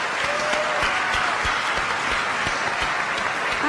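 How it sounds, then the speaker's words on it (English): Loud, steady audience applause for panelists at a town hall on gun violence, dense continuous clapping from a crowd with no break. "Can we give another round of applause for our awesome panelists today?"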